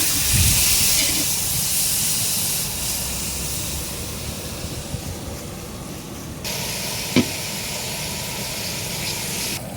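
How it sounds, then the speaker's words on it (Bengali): Paneer fries in a hot pan in an outdoor village kitchen, a steady loud sizzling hiss that continues throughout, with a faint knock near the end. "এখন আমরা পনিরটাকে ভালো করে ভেজে নেব"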